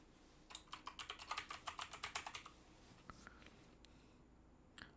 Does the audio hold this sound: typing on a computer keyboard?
yes